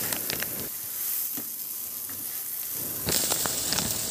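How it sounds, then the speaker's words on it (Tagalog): Garlic and ginger sizzle steadily in a frying pan, a close, continuous hiss with occasional stirring scrapes and no talking. "At sa the same na kawali, igisa ko na rin yung bawang, luya."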